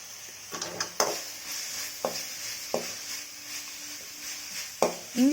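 Ginger garlic paste sautéed in a pan for vada curry, a steady close sizzle with repeated sharp clinks and scrapes of a ladle stirring against the metal.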